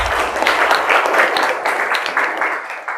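Classroom applause as students clap for one another, a lively, uneven burst of hand claps from a small group, close and loud, easing off over three seconds.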